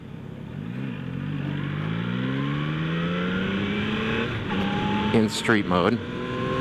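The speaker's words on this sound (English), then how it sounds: "Acceleration from a stop. We're going to get onto the highway here." A 2025 Yamaha MT-09 SP motorcycle accelerates from a stop onto a highway in street mode, its engine note climbing through several gear pulls, with someone speaking briefly over the ride near the end.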